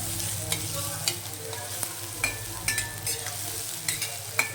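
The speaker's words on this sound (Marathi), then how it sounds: "कांदा टाकून द्यायचा। कांदा छान परतून घ्यायचा" Chopped onion sautéing in a pan with cumin seeds for poha, a steady low sizzle with scattered scraping and stirring clicks throughout, close and without talk.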